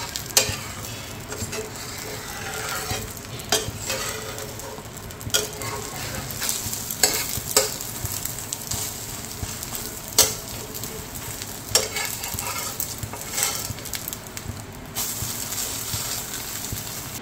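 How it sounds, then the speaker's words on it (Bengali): Curry gravy with soybean chunks is stirred in a frying pan, a continuous close sizzle and bubble with periodic spoon scrapes and taps against the pan, no talking. "এবারে ঝোলটাকে একটু নেড়ে"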